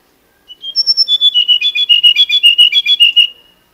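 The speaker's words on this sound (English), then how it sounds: "this one in China, one of my favorite bird songs." Bird song recorded in China: a rapid series of about twenty bright, clear whistled notes delivered in a quick even rhythm, loud and close, with nothing else audible around it.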